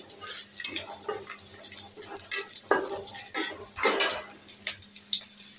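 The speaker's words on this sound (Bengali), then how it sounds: "পেঁয়াজ মরিচ ভেজে নিচ্ছে।" Onions and chilies fry in a pan with a steady sizzle, while a utensil repeatedly clinks and scrapes against the metal as the mixture is stirred.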